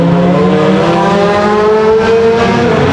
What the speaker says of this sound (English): That thing sounds like the first combustion engine that was ever created.